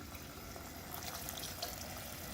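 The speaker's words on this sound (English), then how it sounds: "to that we're going to add about a half cup of water so that it can simmer" Water poured into coconut milk for a shrimp curry makes a steady, quiet liquid splashing and filling sound that runs continuously with no talking.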